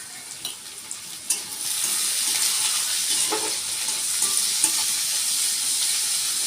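Potatoes with salt and turmeric stirred and frying in a pan, a steady hiss of sizzling oil with scraping stirs and a few light knocks near the start.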